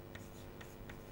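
Pen or chalk writing during a logic lecture, three short scratchy strokes over a low hum of room noise, faint and close.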